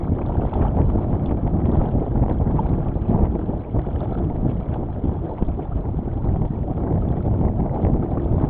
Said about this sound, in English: Another little gust there.